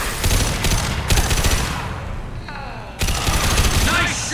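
Gunfire in Mass Effect 2 during a fight against heavy mechs: loud bursts of rapid shots in two main volleys separated by a brief lull, with voices mixed in.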